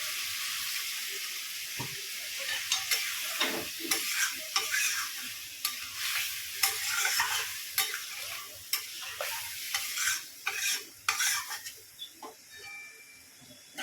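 Water poured into a sizzling pan of Bengali egg and taro root curry, with a steady frying hiss broken by repeated sharp scraping strokes of a spoon stirring, close and fairly loud, no voices.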